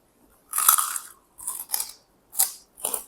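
Crunchy bites and chewing of fresh raw green vegetables dipped in sambal, heard close-up as four separate crisp bursts, the first long and the rest shorter, with quiet gaps between.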